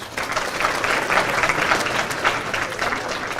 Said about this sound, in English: let's give them a nice round of applause